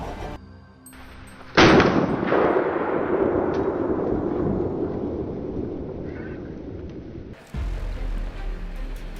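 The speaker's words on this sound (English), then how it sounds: "a barrage of gunfire rained down like a thunderstorm" A sudden loud blast opens a dense, roaring volley of hunters' gunfire during a wild boar hunt that rumbles on for several seconds, then a second burst erupts near the end.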